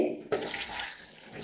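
Running water splashing onto hair during hair washing, a soft steady hiss that starts abruptly after a brief quieter moment and continues close by.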